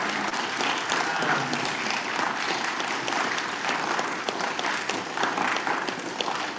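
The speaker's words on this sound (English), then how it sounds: "So let's give another round of applause for everybody who just came out." Steady, dense applause from a large crowd fills the whole stretch, loud and even, with no voices standing out.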